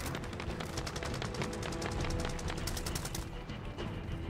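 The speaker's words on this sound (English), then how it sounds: "I hear shooting back like a TV." Rapid bursts of automatic gunfire from a Kilo class setup in a first-person shooter, sharp repeated shots crackling close and loud across most of the span, then easing toward the end.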